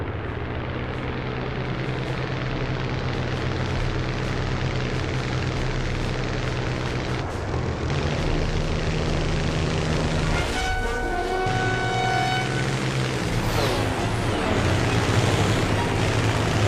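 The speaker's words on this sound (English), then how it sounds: "The second wave consisted of 171 planes" Massed propeller aircraft of the second attack wave over Pearl Harbor, a loud continuous engine drone with a steady low rumble throughout and a brief higher whine partway through.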